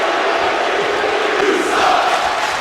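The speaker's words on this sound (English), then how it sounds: "Crowd not happy at all." A large arena crowd in a WWE 2K wrestling video game roars in a dense, continuous wash of voices, loud and steady throughout with no clear breaks.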